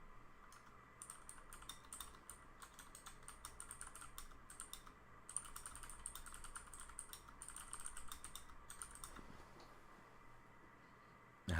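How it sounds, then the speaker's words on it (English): Rapid, irregular keystrokes clatter on a mechanical keyboard, a steady stream of sharp clicks with brief pauses, close to the microphone. "you guys hear me typing on my new mechanical keyboard"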